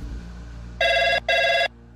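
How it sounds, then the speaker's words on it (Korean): A telephone rings at a Seoul police station in a dramatized scene, two electronic ring bursts in quick succession, loud and close over a low background hum. "전화 한 통이 걸려왔어."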